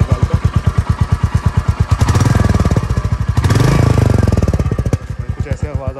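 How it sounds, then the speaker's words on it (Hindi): A Royal Enfield Meteor 350 motorcycle idles with a steady, loud, thumping single-cylinder exhaust beat, rising into two short throttle revs in the middle before settling back to a chugging idle, with no voices over it. "फिर उसके बाद अभी सुनते हैं इसकी एग्जॉस्ट नोट।"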